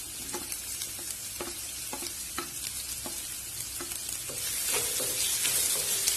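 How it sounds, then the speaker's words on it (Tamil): Onions sizzling and frying in hot oil, with a spatula scraping and stirring at an irregular rhythm; the sizzle grows louder toward the end. "வெங்காயம் கொஞ்சம் வதங்கட்டும்."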